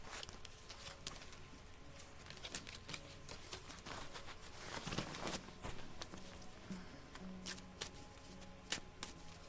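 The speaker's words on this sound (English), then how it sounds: "Let's see what cards we have here." Tarot cards shuffled steadily and softly, a continuous papery rustle and flutter with faint clicks over a quiet background hum, and no voices.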